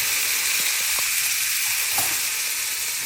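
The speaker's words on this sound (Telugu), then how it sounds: "కొంచెం ఫ్రై చేసుకోవాలి." Curry leaves, ginger pieces and green chillies fry in a pan with a steady close hiss and sizzle, a few soft stirring clicks and pops breaking through the bright crackle.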